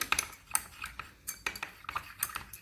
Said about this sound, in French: je remue bien pour que ce soit bien homogène